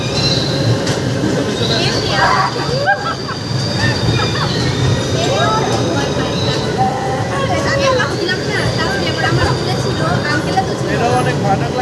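An amusement park ride train or roller coaster at an Eid outing runs with a steady loud rumbling rattle and occasional metallic squeals, continuous throughout, with people talking and crowd noise mixed in.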